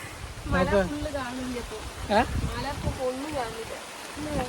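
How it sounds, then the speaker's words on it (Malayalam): Continuous heavy rain patters and hisses in the background while a couple of people talk over it. "മഴ കേട്ടാ നല്ല മഴ പെയ്തു"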